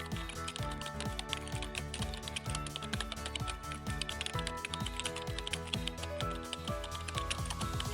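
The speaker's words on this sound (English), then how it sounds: "you're gonna type in IronBot V3," Continuous, rapid keystrokes on a computer keyboard clatter steadily throughout, close and clear, with no talking over them.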